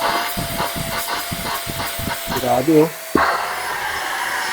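A Tixx handheld wet-and-dry portable vacuum cleaner runs with a steady, loud whooshing suction hiss that briefly dips and then resumes, while a person talks over it.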